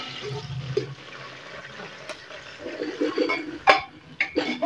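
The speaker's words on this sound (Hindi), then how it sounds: "तो अब मैं देखो इसमें प्याज ऐड कर रही हूँ।" Sliced onions go into hot ghee in a home kitchen pan, giving a hissing sizzle with bursts of crackling spatter that grow louder and busier toward the end.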